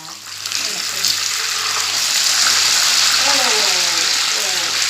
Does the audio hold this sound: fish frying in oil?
yes